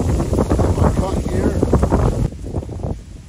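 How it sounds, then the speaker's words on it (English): Strong gusts of wind buffet the microphone outdoors beside a campfire oven, a loud, rough roar that eases slightly toward the end. "It is windy."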